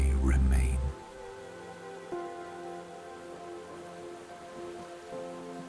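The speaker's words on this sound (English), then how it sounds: "The rain slowly begins to fade," Gentle rain falls and drips softly and steadily in a quiet medieval scene with a warm fire, under faint tones, after a calm voice narrates at the start.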